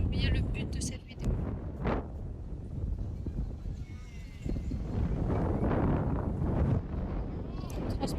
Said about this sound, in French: Le vent, je vous le transmets aussi.